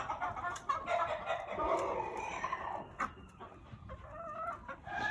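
Large fowl mottled chocolate Houdan chickens cluck and call in a steady, busy flock chatter, fairly close and continuous, with a few sharper calls and no talk.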